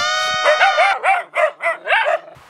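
A man in a Pothwari-language comedy drama imitates a dog, starting with a long whining yelp and then giving about five loud, close yapping barks in a quick, uneven rhythm.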